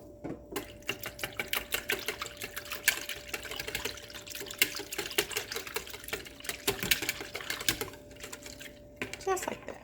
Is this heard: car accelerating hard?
no